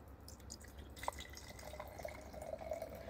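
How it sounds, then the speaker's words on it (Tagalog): Liquid being pumped from a dispenser and poured into a container, heard as faint drips and a thin trickle with small splashy plinks, fairly quiet against a steady low background hum. "Di ba ang satisfying yung sound kapag nagsasalin?"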